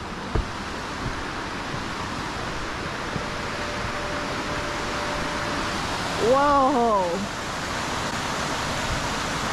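Steady broadband rush of water, like a nearby river, fills the whole stretch; a voice calls out once with a brief exclamation partway through.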